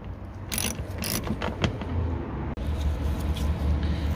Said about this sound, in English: we'll remove those 4 8mm bolts to loosen off this piece of trim